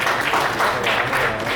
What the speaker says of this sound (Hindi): इनके नाम पर जोरदार ताली।